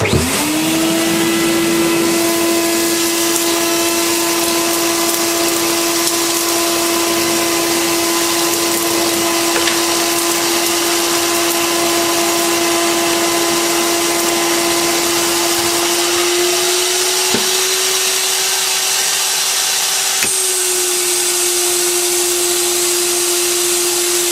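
A loud dust collector drones continuously with a steady motor hum and broad rushing air noise, shifting slightly in pitch partway through.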